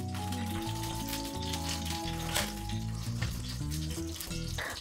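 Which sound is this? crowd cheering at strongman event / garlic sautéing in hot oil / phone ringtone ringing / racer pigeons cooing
garlic sautéing in hot oil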